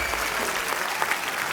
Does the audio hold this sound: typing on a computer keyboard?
no